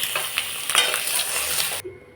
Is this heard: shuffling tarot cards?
no